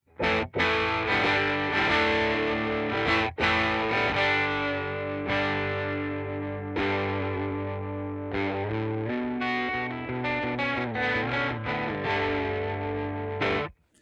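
An electric guitar strums chords through a germanium fuzz pedal, thick and buzzy, loud and sustained with a few sharp attacks, no voices.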